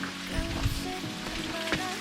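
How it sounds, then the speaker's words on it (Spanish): A small waterfall with low flow at the Chacay cascade near Salamanca, Coquimbo, Chile, heard from its base: steady, close, broadband splashing and rushing water with no voices. "Aquí estamos en los pies de la cascada."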